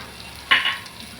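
Rice and lentils for khichuri get stirred in a pan: a quiet background hiss, then a short, bright scrape-and-sizzle burst in the middle that fades quickly.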